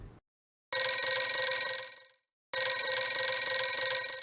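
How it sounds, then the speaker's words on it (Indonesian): A telephone rings in two long bursts separated by a short gap while a call connects during a broadcast, loud and clear, with no voices over it. "kita menunggu telepon tersambung dengan Bu Esti"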